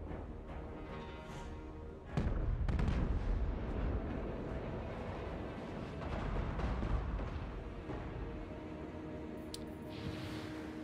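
Units firing in a battle in Total War: Warhammer II: a heavy burst of booming, rumbling volleys breaks in after a quieter start and keeps up as a dense, loud clamour of shots and impacts to the end.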